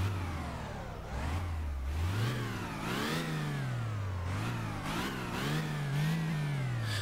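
A BMW E34 engine in the City Car Driving game revving repeatedly, rising and falling in pitch over a steady idle drone. The engine sound is continuous, even and synthetic, with no talking.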